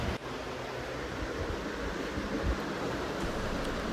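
Sea water rushing past the hull of a ship sailing from Hazira port, a broad steady wash of surf-like noise with wind buffeting the microphone, close and loud, no speech.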